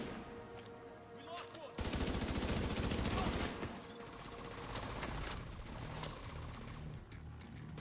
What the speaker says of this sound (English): You see the rockets flying at me?